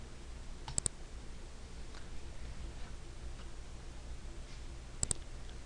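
Two sharp paired mouse clicks in desktop software, one near the start and another about four seconds later, small and close over a faint steady background hum.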